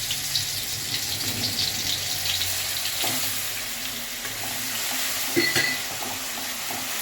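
Spice paste hits hot rice bran oil in a pan for a fish curry, setting off a loud, close, continuous sizzle and spatter with occasional stirring scrapes and no talk.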